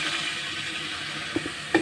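Tomatoes being sautéed with spices in a pan for a rohu fish do-pyaza, a close steady frying sizzle with a couple of soft stirring knocks near the end, no talking.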